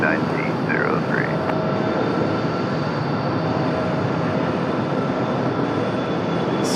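A CRJ regional jet, American or Delta, takes off from runway 23 right at Raleigh Durham airport, a steady, loud, broad roar that holds evenly throughout, with a few faint chirps near the start.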